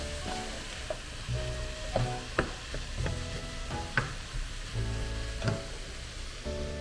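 Cabbage frying in a pan until crispy, a soft steady sizzle broken by repeated clinks and scrapes of stirring at an irregular rhythm, close and fairly quiet with no talking.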